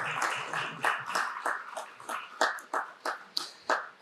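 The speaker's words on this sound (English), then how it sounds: "We can clap hands for him" An audience claps for a PVO registrar invited to join as a discussant at a regulator's knowledge-sharing session, with a steady run of individual hand claps, moderately close and fairly sparse, without talk over them.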